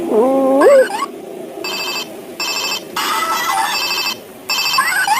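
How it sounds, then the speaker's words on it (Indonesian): Hello Kitty toy telephone rings in repeated electronic bursts, a warbling chirp followed by several evenly spaced ringing pulses separated by short gaps, close and fairly loud against light background noise. "Wow, ada telepon Hello Kitty."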